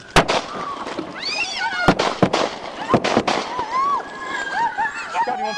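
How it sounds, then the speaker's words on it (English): Gunshots ring out during a police bodycam confrontation in Nevada County with a woman charging an officer with a knife: several loud, sharp bangs spread over a few seconds amid frantic shouting voices. "shots fired, shots fired"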